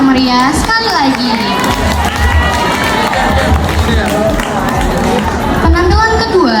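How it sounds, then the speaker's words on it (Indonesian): A school audience at an Islamic New Year celebration cheers and shouts continuously, loud and close, with children's voices rising and falling amid crowd noise rather than clear clapping. "Beri tepuk tangan yang meriah sekali lagi."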